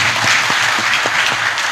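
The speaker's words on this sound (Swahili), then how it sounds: "tupigie hiyo makofi kwanza" Loud, dense applause from a large audience at an official Kenyan police unit launch event, steady and sustained throughout with a few sharper claps standing out.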